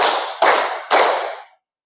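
Three sharp hand claps ring out close and alone during a clapping exercise, evenly spaced about half a second apart, each with a bright, quickly decaying tail before silence.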